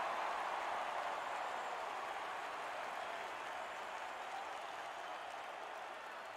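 Pittsburgh Penguins fans cheering in a packed hockey arena during a Flyers game, a steady, dense crowd roar that holds evenly throughout and fades slightly near the end.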